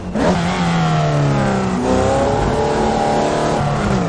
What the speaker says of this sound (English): Now this car don't do donuts real well, but let's give it a try.